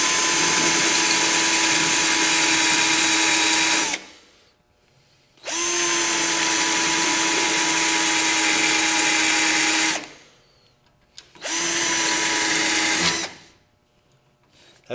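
A power drill bores out a spot weld on sheet metal, fed slowly. Three long, steady whining runs at an even pitch are broken by short silent pauses, loud and close with no talk.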